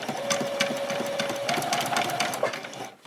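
A sewing machine runs steadily while back-stitching a doll's dress, its fast mechanical needle chatter continuous and close before stopping abruptly at the end.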